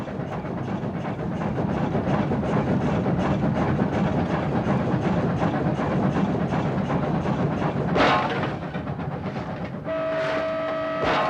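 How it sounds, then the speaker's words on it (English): A train crosses the Gobi Desert toward the Tian Shan Mountains, rumbling loudly and steadily with rolling clatter, a sharp burst of noise partway through, then a tonal whistle or horn sounding near the end. "The train passes through the desert on the way to the Tian Shan Mountains"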